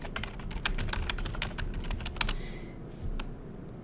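Quick bursts of keyboard typing on a computer keyboard, a steady run of close, crisp key clicks with a short pause near the end, heard alone with no talking.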